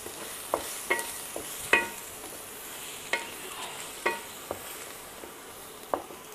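Masala with chilli powder being stirred and fried in a pan for paneer do pyaza, with scattered scraping stirs and clinks over a faint steady sizzle, close and fairly quiet, no talking.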